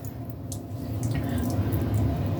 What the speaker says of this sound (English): fold in half again, so that way I can wring the water out